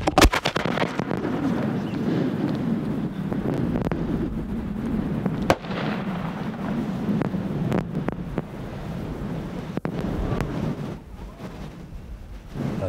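Fireworks shells of 3 to 6 inches, including an Italian horsetail shell, burst outdoors during a blizzard, with a few sharp distant booms and crackles over steady roaring wind noise across the microphone.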